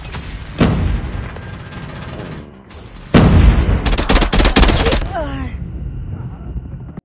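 TEC-9 SMG fire in Call of Duty: Mobile comes in sharp shots and then a fast, loud burst of automatic fire, mixed with game effects and brief in-game callouts.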